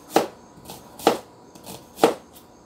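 Knife chopping an onion into rings on a cutting board for chiltepe pico de gallo: three crisp, evenly spaced chops roughly a second apart, close and fairly loud, with faint softer taps between, no talking.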